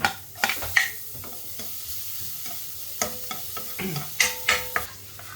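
Chopped garlic sautéing in hot oil with ginger for pork belly dinuguan, stirred with a spatula: a steady close sizzle broken by repeated scraping, clattering stirring strokes, no talking.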